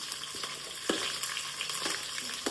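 Coconut pieces and shallots fry in a pan with a steady close hiss and crackle, stirred now and then with soft scraping knocks, and no voices.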